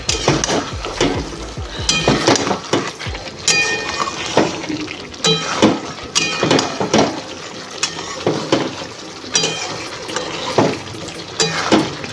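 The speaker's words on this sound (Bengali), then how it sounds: "এই টমেটোটা দিয়ে ভালো করে কষিয়ে নেব" Spiced masala with tomato, Kashmiri chili powder and garam masala being sautéed in a pan: a loud, close sizzle broken by repeated scraping and stirring strokes of a spatula at an uneven rhythm.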